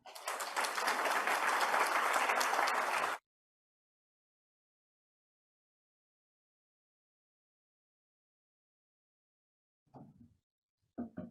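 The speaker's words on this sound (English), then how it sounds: "A big round of applause for our director." A conference audience applauds the director, a dense burst of clapping lasting about three seconds before cutting to silence, followed late by a couple of brief faint sounds.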